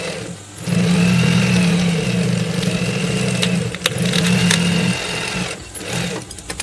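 A sewing machine stitches fabric for a commando hat made from old trousers, running in two steady mid-pitched bursts of about three and two seconds with a short pause between and a brief stop near the start.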